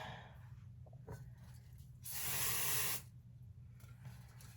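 A single hiss of hairspray from an aerosol can, about a second long, in an otherwise quiet room with low background hum.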